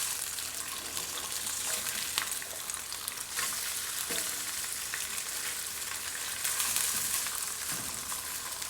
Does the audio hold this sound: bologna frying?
yes